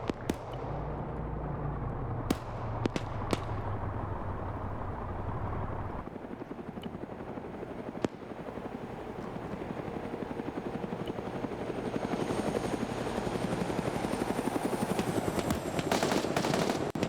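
Helicopters in an SCP military video game thunder with a heavy, steady rotor drone that fades after a few seconds, punctuated by sharp bursts of gunfire and a continuous background rumble.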